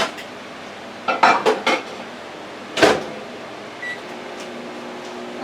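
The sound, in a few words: dish with bacon and egg being put into microwave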